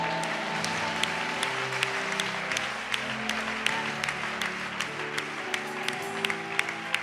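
A church congregation claps steadily through a French-language worship service, with dense sustained applause and some scattered sharper claps over a murmur of sung or spoken voices.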